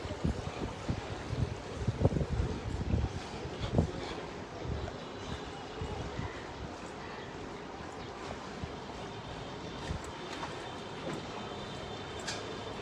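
A boat's side-mounted engine runs steadily, giving a dense, continuous rumble with some wind buffeting and no clear speech.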